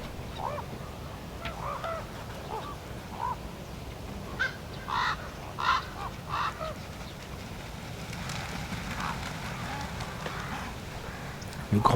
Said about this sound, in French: Le grand corbeau qui arrive derrière est formidable, aussi grand que la buse